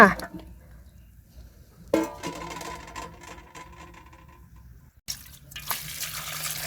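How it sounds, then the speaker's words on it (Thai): Boiled water is poured off bamboo shoots during the second boil, in a Thai Isan home kitchen. Brief splashing pours come in separate bursts, quite faint and close by, with quiet gaps between them. "หลังจากต้มได้ทีแล้วก็มาเทน้ำต้มออกจ้า"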